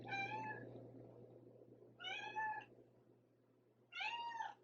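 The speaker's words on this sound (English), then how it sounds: "she will not stop meowing" A domestic cat meows three times at steady intervals, each call clear and close, with a low steady hum underneath and no talking.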